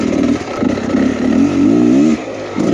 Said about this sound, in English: This is so weird riding 2-stroke. This thing's got lots of low end.